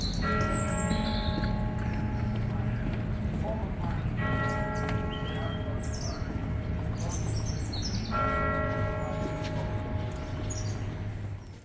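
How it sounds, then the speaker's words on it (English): Church bells ring out in long, overlapping peals that swell and repeat every few seconds, loud and resonant, with faint birdsong in the background. "But I'll be quiet now so you can hear the bells"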